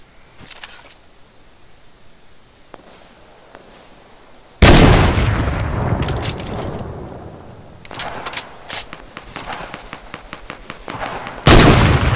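Fortnite gunfire crashes in suddenly, loud and sustained, then breaks into rapid bursts of shots and another heavy volley near the end, after a quiet start.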